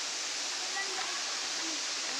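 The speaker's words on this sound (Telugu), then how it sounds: "గాయ్స్ ఇదే వాటర్ ఫాల్స్" Talakona waterfall sends out a constant, even rush of falling water, heard from a moderate distance as a smooth wash of noise with only faint traces of other sounds.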